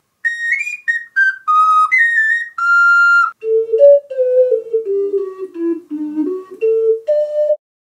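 Pure, breathy melody from a vessel flute ocarina, clear sustained notes stepping through a high phrase, then dropping into a lower, wavering passage, played solo and close.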